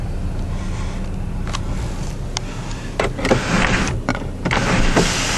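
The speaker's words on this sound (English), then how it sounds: "There goes your sunroof, letting the sunshine in." Power sunroof motor on a 2008 Ford Fusion SE opening, a steady close electric whir and hum lasting several seconds with a few mechanical clicks and a louder rise near the end, no talking.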